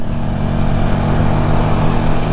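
Close and loud, the carburettor-tuned Honda CB 450 motorcycle engine holds a steady, rumbling run with a slight rise in throttle and no voices over it.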